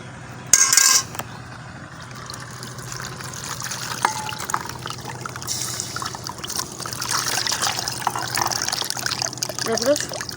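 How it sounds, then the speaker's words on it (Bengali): Dried shrimp being washed with water in a sieve, giving a steady close trickling and splashing that builds after a few seconds, with a brief clatter near the start. "তারপরে আমি ধুয়ে নিলাম।"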